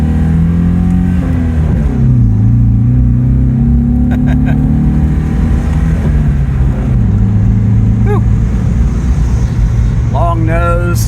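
A Ginetta G26's 2-litre dual overhead cam fuel-injected engine revs steadily up and down, close and loud, with someone talking over it throughout.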